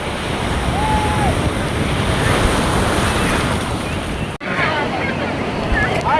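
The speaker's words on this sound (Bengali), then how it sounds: "প্রচুর বড় বড় ঢেউ আসছে" Large sea waves crash and surge continuously at Digha beach, a loud steady roar of surf mixed with gusty wind buffeting the microphone, with a brief dropout near the end.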